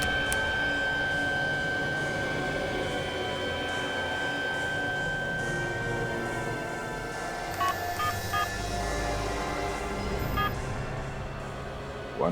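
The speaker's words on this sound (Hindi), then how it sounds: "इस सिम कार्ड को अपने मोबाइल में डालो और मेरे नंबर पे फोन करो" A mobile phone number is keyed in, with a series of short steady dialing tones under a dense, loud drama soundtrack.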